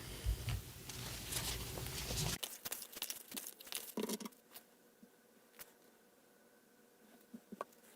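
Oracle cards, animal spirit and Green Witch decks, shuffled close up: a continuous papery rustle and riffle for a couple of seconds, then scattered soft slaps and clicks as the cards settle.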